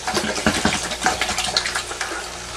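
An aquarium filter cartridge is dipped and swished in water to rinse off debris. The water sloshes and splashes in quick, irregular bursts close by, with no talking.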